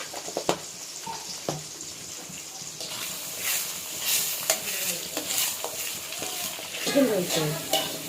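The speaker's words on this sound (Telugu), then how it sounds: "చూడండి ఈ విధంగా కొంచెం పెద్ద పెద్ద ముక్కలు వేసుకొని ఇట్లే ఫ్రై చేసుకోండి, బాగా ఫ్రై అయ్యే వరకు" Egg pieces, seasoned with salt and pepper and cut into large chunks, fry in a pan with steady sizzling and the scrape of stirring, with a few louder clinks and scrapes, and no voice over it.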